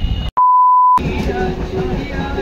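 A train interior, where a single steady electronic beep sounds for about half a second after a brief silence, followed by rumbling carriage noise and faint voices.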